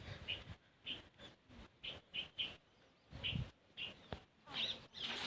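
Pigeons calling close by in short, repeated bursts with brief pauses between, sometimes with a soft flutter of wings.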